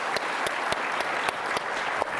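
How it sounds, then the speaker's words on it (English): Audience applauding panelists after a robotics discussion at a conference, a full crowd clapping continuously with a few sharper individual claps standing out, steady and close throughout. "Let's give a round of applause to our great panelists."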